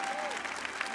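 A church congregation applauds during a Catholic priest's sermon, a brief, even wash of clapping with a faint tone, likely a voice or instrument, sliding beneath it.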